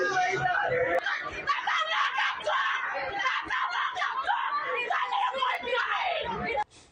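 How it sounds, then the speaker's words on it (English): Parents screaming and wailing outside a Texas school during a shooting, a dense, continuous crowd of anguished voices crying out together at close range, cutting off abruptly near the end. "those parents are screaming"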